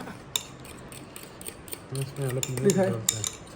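Burger sauce being whisked in a bowl, a string of light metallic clinks and scrapes of utensil against the bowl, quickening toward the end while people talk nearby.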